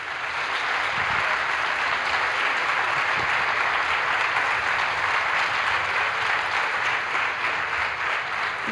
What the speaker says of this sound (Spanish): vuelvan a aplaudir a Carmen y le damos la bienvenida